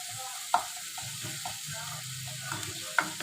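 Chicken fries in a pan with a steady, close hissing sizzle, broken by a couple of sharp clicks from a utensil.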